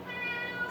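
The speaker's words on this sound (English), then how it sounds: "That's my cat Cupcake." A pet cat named Cupcake gives a single drawn-out meow, close by and steady for just under a second, with a bright harmonic tone that wavers slightly in pitch.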